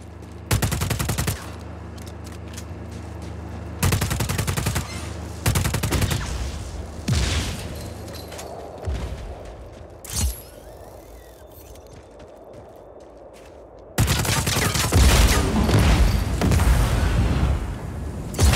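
An underbarrel grenade launcher fires in Just Cause 4 amid loud bursts of automatic gunfire and booms. The bursts come in clusters separated by quieter stretches, ending in a heavy sustained barrage.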